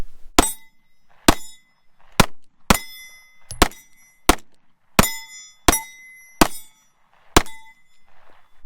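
A Ruger Max 9 handgun with a carry magazine fires ten sharp, loud shots in a steady, unhurried rhythm, each crack ringing off metal and followed by a short quiet gap.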